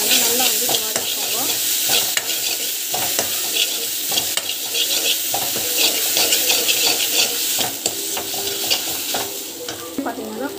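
Ground masala with chilli powder and turmeric powder sizzles in a pan while being stirred, with continuous frying hiss broken by repeated scraping stir strokes, fairly loud and close.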